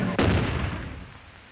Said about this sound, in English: The clear mountain air, making inescapable the blasts of the Napoleonic cannon.